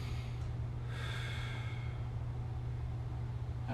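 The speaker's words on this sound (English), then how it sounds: "So nice deep breath in." A person draws a slow, deep breath in during a hip and hamstring mobility exercise, a soft airy inhale that swells briefly over a steady low background hum, without speech.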